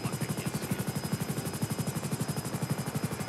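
Rapid gunfire in GTA 5 during a helicopter patrol, a fast steady burst of shots repeating evenly throughout, heard alongside a continuous rotor drone with no talking.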